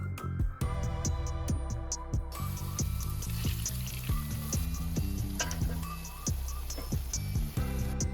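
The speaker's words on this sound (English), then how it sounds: "Once the oil is warm, not screaming hot, place the triangles prawn side down." Prawn toast triangles shallow frying prawn side down in warm oil in a pan over low heat, a steady close sizzle with bursts of crackling pops and clicks throughout.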